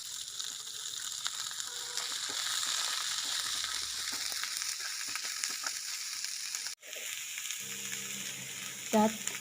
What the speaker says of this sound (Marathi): चार बारीक चिरलेला कांदा छान गुलाबी रंग येईपर्यंत परतवून घेऊ